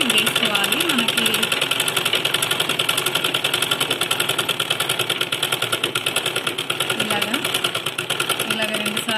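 A sewing machine runs steadily, stitching cloth in a fast, even mechanical whir, while someone talks over it.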